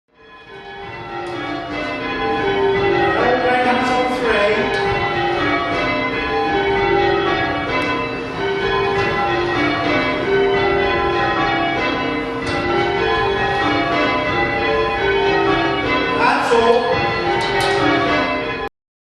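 Church bells change ringing on six bells, a steady cascade of clear bell strikes overlapping in rhythmic rows, ringing loud and close for the whole stretch.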